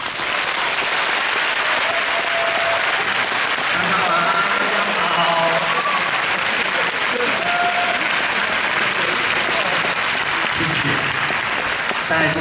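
Sustained, dense applause from a concert hall audience at the Taipei International Convention Center, greeting a singer before he performs with an orchestra; loud, steady clapping fills the whole stretch, with faint voices and tones mixed in.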